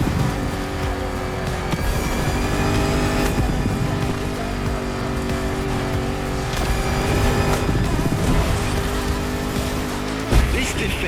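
A 400-horsepower Land Rover Defender in The Crew Motorfest rally raid drives with its engine running at a steady, loud, continuous drone, pitch rising and falling slightly as it accelerates, with a brief thump near the end.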